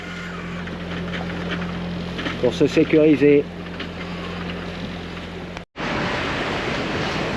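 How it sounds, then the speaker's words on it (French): A sailboat's auxiliary engine drones steadily at sea while crossing the Strait of Gibraltar, with wind and wave noise throughout and someone speaking briefly over the low continuous hum. "Donc, un petit coup de moteur"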